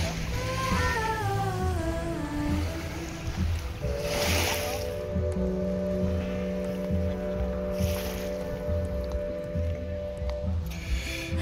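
Waves washing onto Formentor beach, a broad hissing surge swelling twice amid a steady wash, heard beneath louder sustained tones and melodic sounds that dominate the foreground.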